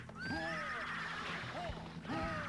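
Synthesized horse whinnies from the Warrior Blade: Rastan Saga Episode III arcade game, two or three rising-and-falling neighs over steady game music and noise, with someone talking at points.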